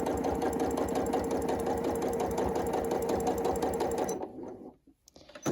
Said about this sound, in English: We're going to just stitch about 3 or 4 stitches and then rotate and then stitch off.